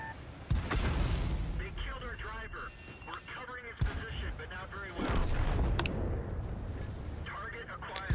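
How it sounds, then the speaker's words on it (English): Artillery shells explode in a tank video game featuring the M4A2E4 tank, with heavy booming blasts at irregular intervals over a dense, rumbling battle din. A voice talks throughout. "Artillery shot almost blew off"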